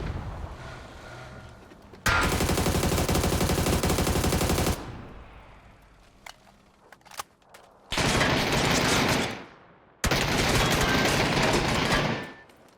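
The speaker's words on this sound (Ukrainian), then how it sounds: "Що ти там стріляєш стільки?" Long bursts of rapid automatic gunfire from the video game PUBG, loud and continuous, separated by quieter stretches with scattered single shots and clicks.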